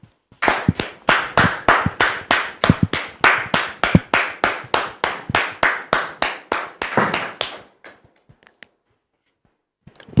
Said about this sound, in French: que nous recevons sous vos applaudissements.